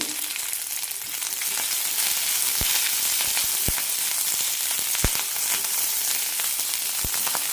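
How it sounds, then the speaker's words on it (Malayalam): Ginger, garlic, green chilies and curry leaves sautéing in hot oil, a loud continuous sizzle up close with a few soft clicks of a spoon against the pan, no voices. "ചെറുതായി മുറിച്ച് ഇഞ്ചി വെളുത്തുള്ളി ഇടാം പച്ചമുളക് കറിവേപ്പില നന്നായി ഒന്ന് വഴറ്റിയെടുക്കാം"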